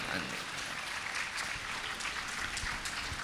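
Lecture audience clapping at a religious discourse series in Udaipur, a steady dense wash of many hands across the whole stretch with no clear breaks, fairly quiet and distant.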